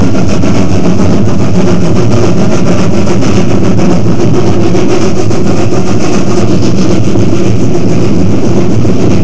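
A narrow gauge locomotive, number 478, hauls a train of Conoco tank cars on an oil branch line in Colorado in the 1930s. Its engine gives a steady, loud, low rumbling drone throughout, with no voices.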